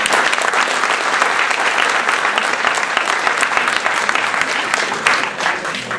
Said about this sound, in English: if you'd like a big applause for Leonard Ornstein, our moderator.